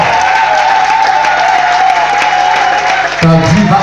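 During a French-language church sermon, a congregation applauds and cheers in a loud, continuous roar of clapping and crowd noise, with a preacher's voice over it that breaks off near the end.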